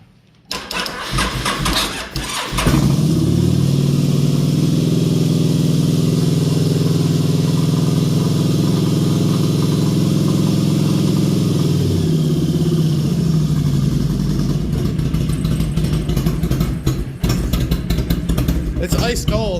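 A motorcycle engine fires up after its carburetors are rejetted, then settles into a loud, steady close idle with a rough edge and a brief dip near the end. A voice speaks briefly over it.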